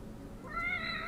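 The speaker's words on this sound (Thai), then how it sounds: "น่ารักแมวดำซะด้วย" A black cat in the horror video game The Evil Within lets out one drawn-out, rising meow over a low steady background hum.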